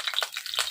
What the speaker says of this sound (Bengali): একটু আমার হাত থেকে জল পড়ছে।